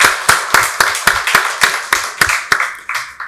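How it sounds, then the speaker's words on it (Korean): A church congregation at a Sunday service claps in unison, loud, close and evenly paced, with strong regular beats about three per second. "박수로 하나님께 영광 돌리겠습니다."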